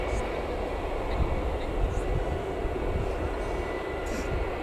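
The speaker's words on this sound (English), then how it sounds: "we've got the British Airways taxiing out as well now" British Airways airliner taxiing out at Newcastle Airport, heading for London Heathrow, with a steady low jet-engine rumble and whine heard from a distance, continuous and even throughout.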